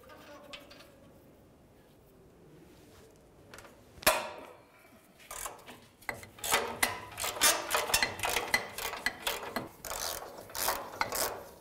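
A 15 mm ratchet loosens the catalytic converter mounting nuts on a 2004-2015 Nissan Titan exhaust manifold, first quiet and then breaking into rapid, clicking ratchet strokes up close, with a sharp clack near the start.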